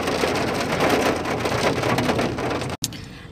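Steady downpour drums on a Prayagraj street amid a traffic jam during days of incessant rain, a thick close hiss that cuts out abruptly near the end.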